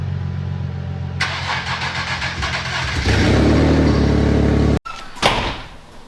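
A car engine cranks and fires up after a turbo kit install, with the intercooler piping not yet connected, then settles into a loud, steady idle before a brief cut and a knock near the end.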